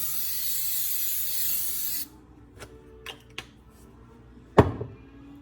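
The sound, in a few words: cooking spray being sprayed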